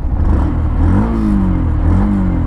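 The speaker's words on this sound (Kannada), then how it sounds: "ಇಂಜಿನ್ ಸೌಂಡ್ ಈ ಥರ ಇದೆ." The 149cc engine of a 2024 Yamaha FZX motorcycle runs close and loud, a steady idle with a couple of gentle rises in pitch like light throttle blips.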